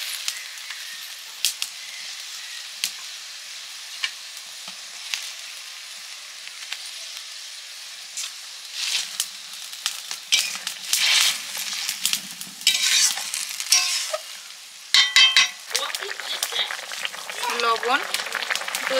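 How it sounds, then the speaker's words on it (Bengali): Fried fish pieces added to a simmering curry, with soft sizzling and intermittent scraping and stirring in the pan, growing busier in the second half, while someone talks at times. "এবার মাছগুলো দিয়ে দিচ্ছি"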